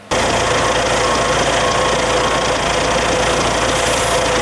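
A grain combine harvester engine runs steadily close by during a harvest, giving a loud, constant mechanical drone with a rough vibrating rumble and no voices.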